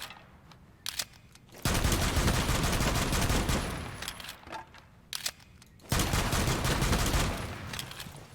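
Game pistol, the 5.7 USG, being reloaded and fired: a few light mechanical clicks, then two long, loud bursts of dense gunfire with short quiet gaps between them, heard alone.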